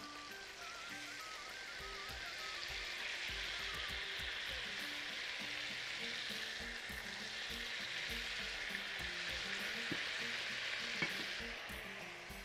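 Shish tawook fries in a pan while it is stirred and turned, a steady loud sizzle with clattering scrapes from the utensil throughout, no speech.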